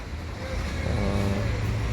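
A bus bound for Medan pulls away from a Palembang bus station on a drizzly day, its engine rumbling low and steady and swelling slightly as it moves off, with no voices over it.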